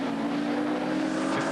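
Race car engine at the 1980 Hardie-Ferodo 1000 at Bathurst, crossing the start-finish line under the Hardie Bridge, a loud sustained droning roar held steady and close throughout with no voices.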